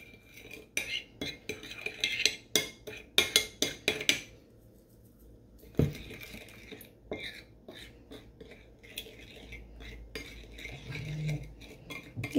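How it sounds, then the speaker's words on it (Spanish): A spoon stirs a mango michelada with sugar and chile Tajín in a glass, giving a run of quick, close clinks and scrapes that trail off into quieter handling noises. "Y vamos a revolver."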